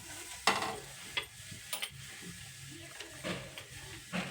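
A chapati fries in oil on a hot griddle, giving off a steady close hiss and sizzle, with scraping stirs and flips breaking through every second or so.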